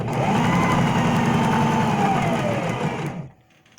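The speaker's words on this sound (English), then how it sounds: "let me get this sewn up" Sewing machine stitching fabric for a pant leg, a steady fast whirring drone running loud and close for about three seconds before cutting off into quiet.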